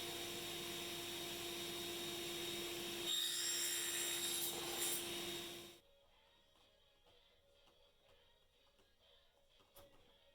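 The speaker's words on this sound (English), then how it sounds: "cut notches in the rails, so I did that on the table saw, and then I finessed it with a chisel at the end" Notches being cut in hardwood rails for an end table with a table saw and chisel: a faint, steady whirring rasp of cutting swells briefly, then stops abruptly, leaving quiet scraping taps.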